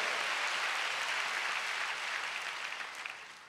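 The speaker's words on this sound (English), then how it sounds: "Give the Lord a big clap." A church congregation claps together in dense, sustained applause filling the room, loud and steady before tapering slightly toward the end, with no voices standing out.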